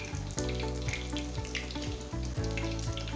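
Vegetable pakoras frying in oil, a loud, dense bubbling crackle running steadily throughout with some sharper pops on top.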